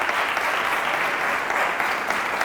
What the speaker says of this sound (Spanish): recibamos con un fuerte aplauso a César